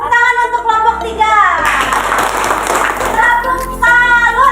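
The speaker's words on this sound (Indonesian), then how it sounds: "Ya, tepuk tangan untuk kelompok 3" A classroom of children applauds group 3 in a short burst of clapping. Voices ring out before and after it.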